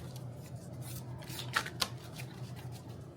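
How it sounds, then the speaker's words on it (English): Soft riffling of tarot cards being shuffled, with two sharper snaps partway through, over a low steady background hum. "Let's shuffle some more."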